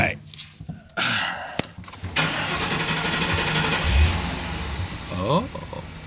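A home-built vehicle's engine cranks with short bursts, then catches and runs at a steady rough idle close by, with brief revs near the end.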